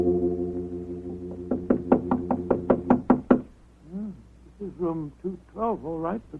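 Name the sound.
knocking on hotel room door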